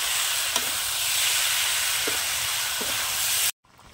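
A small amount of water boils in a pan with spiced bottle gourd and cumin, making a steady bubbling hiss with a few faint ticks before the sound cuts off abruptly near the end.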